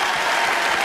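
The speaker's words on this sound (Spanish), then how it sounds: "Un aplauso para el conguero." A crowd claps steadily for a conga player at a tribute concert for a merengue singer, a dense, loud burst of applause with no pauses.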